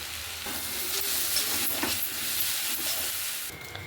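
Chow mein noodles frying in a pan with sugar, salt and a little black pepper, a steady close sizzle with stirring scrapes throughout and no talking.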